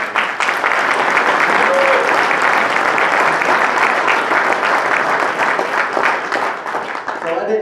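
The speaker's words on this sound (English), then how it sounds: "Will you give these two one more round of applause?" Loud, sustained audience applause at a Man and Woman of the Year awards event honouring two people, many hands clapping densely and evenly throughout with a faint voice briefly underneath.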